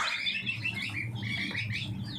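Spanish-breed chicken chicks chirping in a steady, busy chorus of high overlapping peeps, close by and with no voices.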